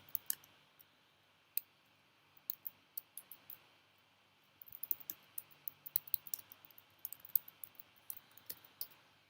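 Light keyboard clicks in quiet, faint bursts, scattered taps at first, then a denser run of typing over low room noise.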